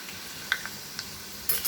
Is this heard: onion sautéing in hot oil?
yes